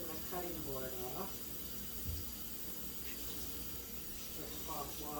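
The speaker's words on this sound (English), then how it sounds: "So I'm just washing the cutting board off" Hot water runs into a kitchen sink as a cutting board is rinsed, a steady close hiss with brief clatters, and a voice speaks over it.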